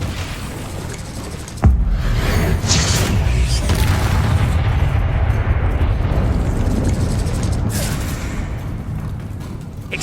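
Incendio fire spell cast in Hogwarts Legacy during a battle: a sudden loud burst followed by a sustained roaring, rumbling blaze with crackling bursts that carries on for several seconds.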